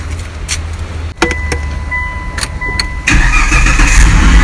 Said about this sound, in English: So I'm going to this car inside and start it first for you.